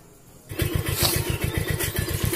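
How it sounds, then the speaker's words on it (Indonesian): A motorcycle engine, its carburetor's broken pilot jet now fixed, fires up and settles into a steady, rhythmic idle putter heard up close. "Nah, ini hasilnya, bro, langsamnya kayak gini."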